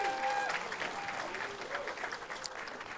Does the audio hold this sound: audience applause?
yes